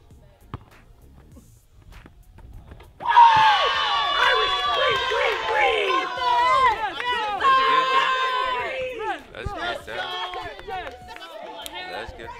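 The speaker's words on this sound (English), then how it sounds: "You gotta like how the crowd rooting for Flight." A crowd at a one-on-one basketball game between Flight and Jenna cheers and shouts loudly in a sudden, lively surge of mixed voices and children yelling that stays busy and excited for several seconds.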